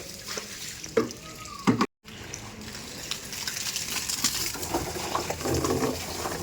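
Water runs steadily from a tap into a container, a continuous splashing rush that grows slightly fuller, with a few knocks and clatters early on.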